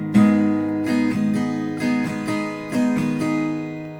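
Acoustic guitar strummed close and clear in a two-part pattern for a song, with rhythmic down and up strokes of ringing chords repeating evenly.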